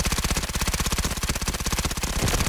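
AS Val rifle fire in the Delta Force video game, a fast, continuous burst of suppressed automatic shots with an even, rapid rhythm. It sounds close and loud and runs without a break, with no talk.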